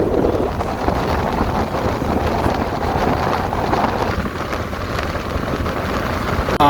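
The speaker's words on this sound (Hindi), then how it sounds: "हवा चल रहा था लेकिन थोड़ी रफ्तार कम थी" Wind rushes past while riding a motorbike, a loud, continuous buffeting roar that stays constant throughout with no voices.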